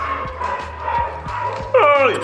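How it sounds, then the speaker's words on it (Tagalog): A dog barks once, sharp and close, near the end, following a stretch of a person talking over a low background hum. "may tumatahol"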